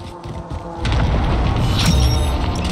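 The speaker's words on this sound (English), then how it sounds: "Enemy precision airstrike." A precision airstrike in the Call of Duty: Warzone video game lands as a loud, sustained low boom that rolls on and fills the clip, with distant crackle above it.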